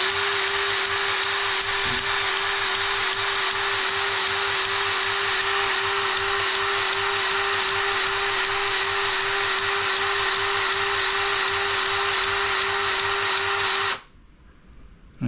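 A powered grease gun packs a boat trailer wheel bearing, giving a steady, loud mechanical whine that holds level for about fourteen seconds and then cuts off abruptly.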